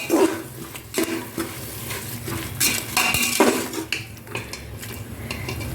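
A spoon scrapes and stirs a rice mixture with yogurt in a metal cooking pot, making steady clattering metallic scrapes with a faint sizzle beneath, close and fairly loud, and no voices.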